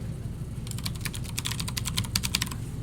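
Rapid clicking keystrokes on a computer keyboard, a quick burst of close, crisp taps over faint room hum while code is being written.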